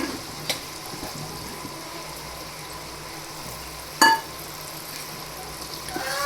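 Chopped green onions sizzle in hot oil in a home kitchen with a steady, soft frying hiss throughout. A sharp clink from a utensil on the pan cuts in near the end.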